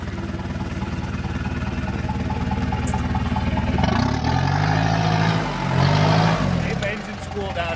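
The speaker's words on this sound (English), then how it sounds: "The engine's cooled down a bit now." Engine of a 4x4 off-road vehicle running at an off-road site, a steady low rumble that swells as it revs midway, with a voice talking over it.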